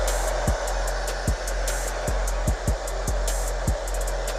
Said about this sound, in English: This is gonna get it as close to natural air dry with a hair dryer as possible.